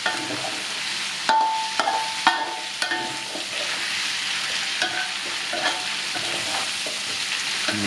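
Garlic frying steadily in a pan over low heat, with a continuous soft sizzle and occasional light stirring clicks and scrapes, close and alone without talk.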